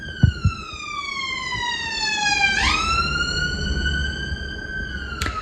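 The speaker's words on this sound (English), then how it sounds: "I can hear an ambulance going past." An ambulance siren wails past, its pitch sweeping down, then jumping higher as it moves away, with faint low rumble beneath and no talking.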